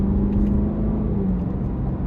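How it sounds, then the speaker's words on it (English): A 2024 Cadillac CT5-V Blackwing engine rumbles steadily with a deep exhaust drone, close and continuous, no voices. "it might be a bit hard to hear me over this very loud car"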